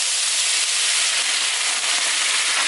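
Stuffed chicken fillets steam and sizzle in a pan under a lid, giving a loud, unbroken hiss that holds steady throughout with no voices.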